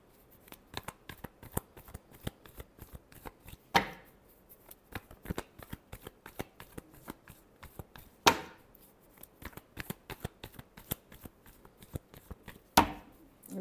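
A deck of tarot cards being riffle-shuffled by hand, a rapid run of crisp flicking clicks broken by three louder whooshing riffles that cascade down, close and clear with no talking.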